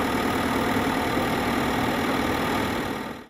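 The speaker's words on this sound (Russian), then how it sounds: "Трактор при помощи ковша поднимает бетонные плиты, под которыми проходит ливневая канализация" A tractor engine drones while its bucket lifts concrete slabs covering a storm drain, a steady loud rumble with no distinct impacts, fading out abruptly at the end.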